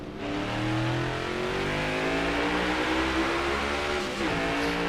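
A NASCAR Next Gen race car at Sonoma Raceway in the video game NASCAR Heat 5 drives with a loud, steady engine roar and rising and falling revs as it accelerates, with no talk.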